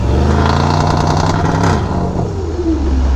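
A turbocharged car fitted with upgraded turbos, downpipes and a tune revs hard nearby, a loud rising engine roar with rattly exhaust texture that eases off toward the end.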